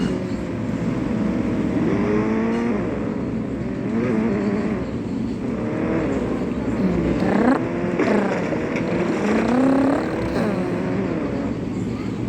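A car drives in the mobile game Indian Bike Driving 3D, its engine holding a steady, loud drone with rising and falling revs that sweep up and down several times throughout.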